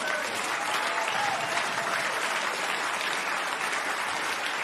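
A crowd at an international science event claps in steady, even applause. It sounds moderately distant and fills the whole stretch without pause or talk.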